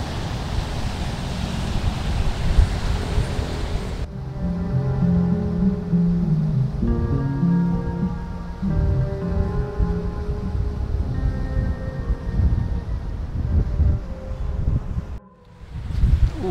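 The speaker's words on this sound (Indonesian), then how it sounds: "Di kawasan Karang Taraje ini ombaknya sangat besar sekali." Big surf and strong wind at Karang Taraje beach in Bayah, Lebak, Banten, a continuous roar of breaking waves and gusting wind blowing across the microphone, with no talking.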